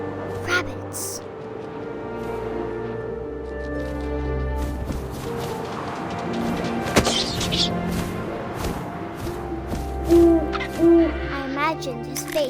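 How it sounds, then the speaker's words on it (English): In the video game What Remains of Edith Finch, owl hoots sound as short mid-pitched calls near the end, over a wind-like ambient bed, with a voice narrating throughout. "And suddenly, I was an owl."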